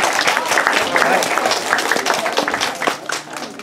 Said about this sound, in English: let's give our volunteer a round of applause